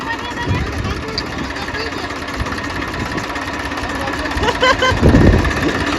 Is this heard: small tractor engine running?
yes